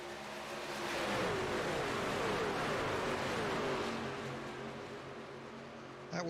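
A race truck engine in the iRacing game at Talladega Superspeedway drones past at high speed, a steady loud roar with a falling pitch sweep as it goes by, holding for several seconds before a brief thump at the end.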